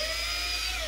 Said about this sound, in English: go down with your drill bit and up